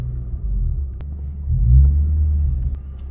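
A Nissan 350Z's engine idles with a steady low rumble, swelling briefly in the middle before settling back, close and with no talking over it.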